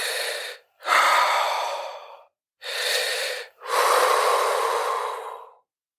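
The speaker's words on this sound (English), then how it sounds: "his eyes filled with terror, and he struggled for breath" A man gasps and struggles for breath in four heavy, ragged, drawn-out breaths, each close and loud with short silent pauses between them, and no one speaking.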